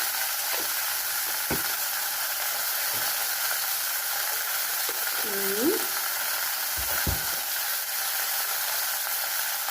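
Ground turmeric, chilli powder and other spices sizzle steadily in hot oil in a pan for a Bengali fish and okra curry, a loud continuous frying hiss with a few soft stirring scrapes.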